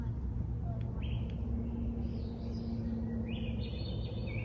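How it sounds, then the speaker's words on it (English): Rising flute-like Swainson's thrush phrases sing at a moderate distance over steady low background noise, several upward-spiraling songs in a few seconds. "Those are Swainson's thrushes. And they're singing right now."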